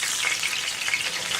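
Chicken livers deep fry in hot oil, giving a dense, even, close bubbling sizzle throughout a short stretch with no speech.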